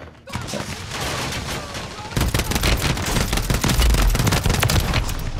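Sustained Call of Duty gunfire rattles in rapid, overlapping bursts, loud and nearly continuous, growing denser partway through.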